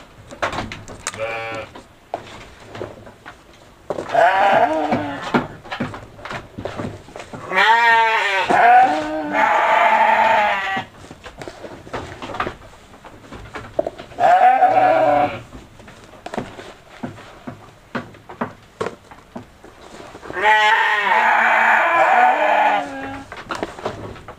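Sheep and goats bleat repeatedly in several loud bursts while fed at a farm, with scattered knocks and handling noises between the calls and no talk over them.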